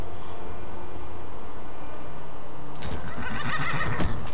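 A horse in the Skyrim video game whinnies loudly, and its hooves clatter in a quick galloping rhythm after a steady hum of in-game background noise.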